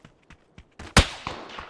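A gunfight in a shooter video game, apparently involving a Beryl assault rifle: one sharp, loud gunshot stands out among a few fainter, scattered shots and clicks, with no talking.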